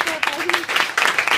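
An audience at a basketball trophy ceremony breaks into applause, with scattered clapping under a voice speaking over a PA.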